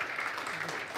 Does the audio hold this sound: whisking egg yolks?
no